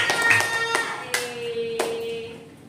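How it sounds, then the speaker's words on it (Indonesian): Students in a classroom perform a patterned cheer clap: a handful of sharp, separate claps spaced out in a rhythmic sequence, each ringing briefly in the room, with faint background tones. "Tepuk semangat."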